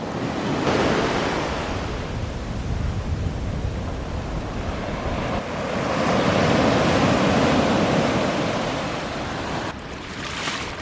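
Steady roar of sea waves breaking on a shore at Allihies, Ireland, swelling and easing in long surges, with some wind buffeting the microphone.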